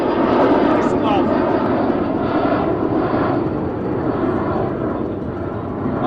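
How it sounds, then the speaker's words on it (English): A fixed-wing airplane passing overhead near FirstEnergy Stadium in Cleveland, a loud, steady engine roar that fills the whole stretch. "We'll wait for the plane to go by."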